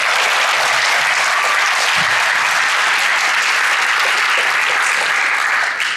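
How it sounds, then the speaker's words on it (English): A large audience at a county Teacher of the Year ceremony claps steadily and loudly for the full length, a dense unbroken wash of applause with no talk over it. "let's give a round of applause to Mr. Chris Parker for emceeing tonight"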